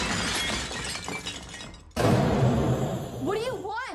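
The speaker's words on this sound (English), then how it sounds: "Startled, she dropped and shattered a porcelain plate" A porcelain plate drops and shatters in a kitchen, one sharp crash halfway through that cuts into a quieter stretch of background sound, followed by ringing shards and then a voice.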